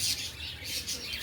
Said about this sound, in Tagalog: Ayun mga ibon.